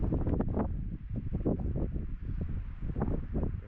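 Steady cool wind roars and gusts against the microphone on Kukul mountain, a continuous blustery rush with rising and falling bursts, no voices.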